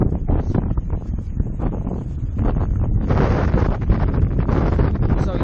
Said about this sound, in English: And I apologize for the wind